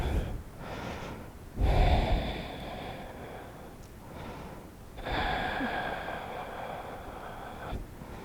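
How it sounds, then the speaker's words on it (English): Deep breaths during a yoga pose: two long, airy inhale-exhale cycles close to the microphone, each a broad hiss lasting a few seconds, with short quiet gaps between them and no talking. "And breathe."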